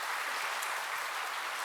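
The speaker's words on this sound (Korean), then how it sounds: "우리 박수로 환영하겠습니다" Congregation applause at a Sunday church service welcoming a first-time visitor, a brief steady burst of many hands clapping, moderately faint and filling the room without talk.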